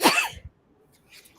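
A single sharp human sneeze bursts out close and loud at the start, then fades into quiet room tone with faint murmuring at the end.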